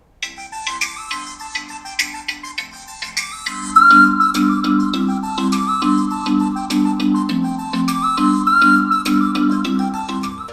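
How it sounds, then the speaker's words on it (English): Music comes from a Cork 2 Bluetooth speaker set on top of a bottle: a chiming melody over a pulsing bass that swells noticeably richer partway through, continuous and near with no speech. "This is the sound of Cork 2 when it is put on a bottle."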